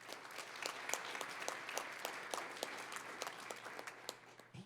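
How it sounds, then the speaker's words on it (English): Council chamber audience applauds a municipal judge honored for his third term, steady moderate clapping with distinct individual claps audible, continuing evenly for several seconds. "He doesn't deserve that much applause if you know him."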